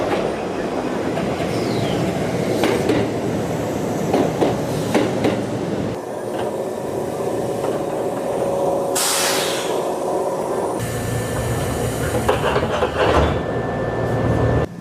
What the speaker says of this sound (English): The Shibayama Railway, heading towards Shibayama-Chiyoda Station